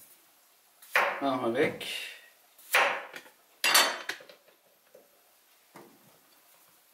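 A knife chops through zucchini on a cutting board while preparing Turkish tepsi kebab, giving a few sharp, close cuts spaced apart, with a voice speaking briefly in German between them.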